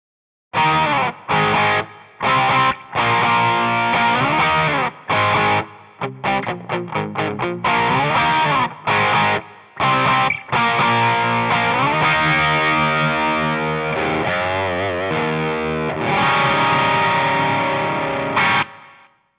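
Overdriven electric guitar through a Spark Booster pedal, quick palm-muted chugs and stabs with short gaps, then sustained ringing chords with bends, loud and close.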